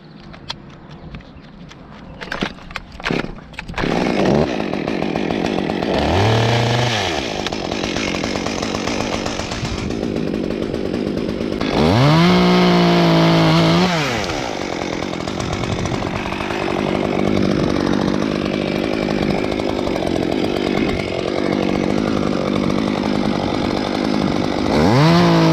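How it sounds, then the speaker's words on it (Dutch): A chainsaw warming up while removing dead wood from a large golden ash tree idles and then revs up loudly twice, whining higher with each burst before settling into a steady drone after some opening clatter. "Dus even de zaag"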